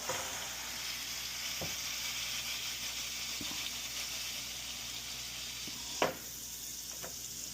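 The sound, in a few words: burger patties sizzling on griddle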